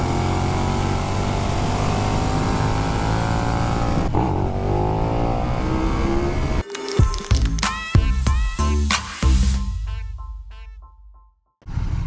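Naked sport motorcycle, a KTM Super Duke EVO or Yamaha MT-10 SP, holding a loud, steady engine drone through a faster corner, then a burst of sharp throttle blips and gear changes with brief drops before the engine picks up again.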